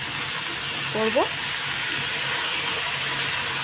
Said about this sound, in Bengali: দেখো কালো জিরা ফোড়ন দিয়ে আলুটা দিয়ে দিলাম